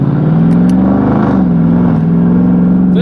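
A Mercedes S55 AMG long-wheelbase luxury sedan accelerates, its engine a loud, steady low drone rising slightly in pitch, with a brief dip suggesting a quick, nearly seamless gear shift.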